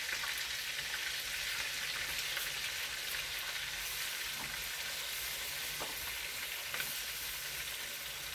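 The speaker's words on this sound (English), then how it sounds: "We're gonna keep all the oil in the pan and we're gonna cook our leftover stuffing." Leftover milkfish stuffing fries in the oil left in a pan, making a steady dense crackling sizzle with no break, close and even throughout.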